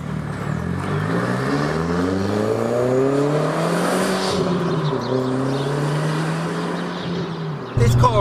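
Volkswagen Golf GTI anniversary edition accelerating on the road, engine note climbing through rising revs with a gear change midway, heard from inside the car, loud and continuous, ending in a brief knock.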